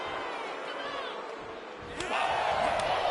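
A wrestling arena crowd in WWE 2K25 roars in a steady wash of cheering that swells louder near the end, with a sharp impact sound as it rises.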